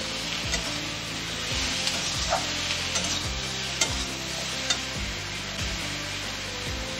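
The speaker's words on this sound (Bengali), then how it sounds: "কচুরলতির সঙ্গে মিশিয়ে নেব।" A spoon stirs kochur loti (taro stolons) with turmeric in a frying pan, making rhythmic scrapes and taps over a steady, close-up sizzle.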